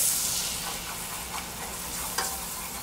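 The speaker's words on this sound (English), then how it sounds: "Not really brown it, but just cook the flour in." All-purpose flour cooking in melted butter in a pan for a light bechamel, giving a steady close sizzle with soft stirring scrapes and no talk.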